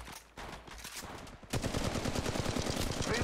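Rapid automatic weapon fire in Apex Legends Mobile, with scattered shots at first and then a dense, louder sustained burst of fast shots through the second half.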